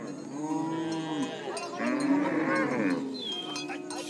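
Cattle lowing repeatedly at a cattle camp, long moos overlapping one another at close range, with a faint cowbell clink and steady background murmur throughout.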